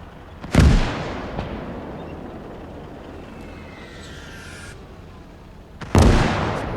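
Tank cannon shots in the Gates of Hell: Ostfront strategy game, two deep booming blasts a few seconds apart, each followed by a rumbling decay, with a faint whine of a passing shell in between.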